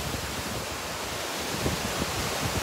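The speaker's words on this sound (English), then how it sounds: "It's so windy." Steady roaring wind at a dam buffets the microphone, a constant broadband rush with no voices, loud and unbroken throughout.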